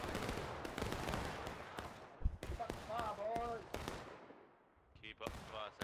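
Musket fire in the War of Rights Civil War game crackles in repeated sharp reports, some near and some distant, while voices call out between the shots.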